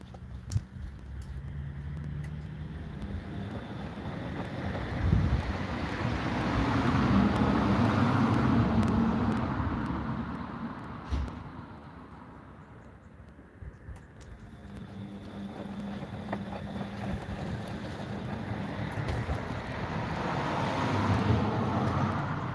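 Bosch WAE24364GB washing machine with a newly fitted motor runs a wash cycle, a steady low churning hum that swells and eases as the drum turns, fairly loud and continuous with no talk.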